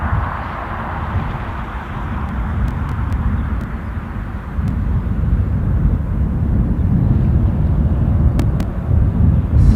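A Cessna 550 Citation Bravo business jet at the end of a runway at Newcastle International Airport gives a continuous low jet rumble with wind buffeting the microphone, rising slightly in loudness over about ten seconds.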